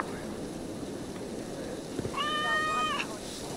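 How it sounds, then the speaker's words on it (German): Large cat in a video game set in a Norse longhouse settlement, one clear drawn-out meow rising over a constant hiss of rain-like ambience. "Oh, es ist ein riesen Kater"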